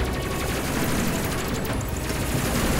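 Dense, continuous gunfire from the space combat video game Space Crew, a sustained rattling barrage with booming blasts layered throughout at steady loudness.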